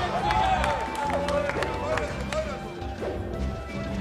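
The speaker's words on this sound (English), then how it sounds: "Ice Germany cheering their boy on." A crowd at a Super Smash Bros. Melee tournament cheers and claps in bursts beneath excited commentators talking throughout.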